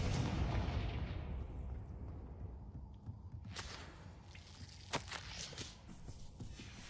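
Confringo fire spells blast in a wizarding video game, with a deep rumbling roar at first and then a few sharp, cracking explosions over quieter combat noise.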